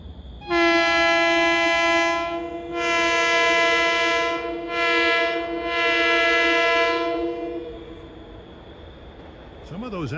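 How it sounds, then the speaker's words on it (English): Long Island Rail Road M7 electric train horns blare in loud, sustained chord blasts: one long note, a pause, then three more in quick succession, close by at Cold Spring Harbor, with a low rumble of the passing train underneath. "Some of those M7 horns sound pretty good."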